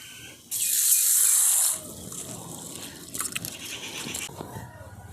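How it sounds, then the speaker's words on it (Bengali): Sago pearls are rinsed in cold water: a loud, close burst of running tap water, then wet swishing and gritty rubbing of the grains by hand. "প্রথমে ঠান্ডা জল দিয়ে ভালো করে ধুয়ে পরিষ্কার করে নিই"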